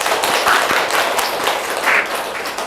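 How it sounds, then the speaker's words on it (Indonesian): A class of participants in an Indonesian teaching session applauds together, a steady wash of many hands clapping at close range for a few seconds with no voices over it. "Boleh diberi aplaus dulu"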